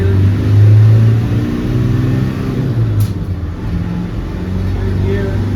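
A 1996 Land Rover Defender 110 with a 300Tdi diesel engine pulling through its gears, a loud low engine drone with rising revs heard from inside the cab with the windows down.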